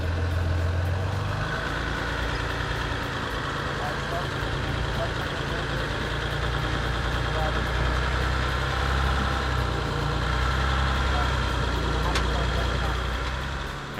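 Diesel off-road vehicle engine laboring as it climbs a rocky trail, a steady low rumbling drone throughout with some scraping and rattling, voices faintly underneath.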